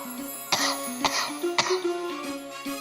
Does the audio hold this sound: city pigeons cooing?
no